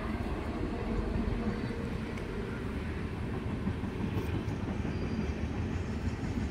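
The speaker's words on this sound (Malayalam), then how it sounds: "ട്രെയിൻ വരുന്നോണ്ട് അത്ര സൗണ്ട് കിട്ടത്തില്ല." A train passes nearby in a steady, loud rumble with a faint clickety-clack of wagons running throughout, and no one speaks.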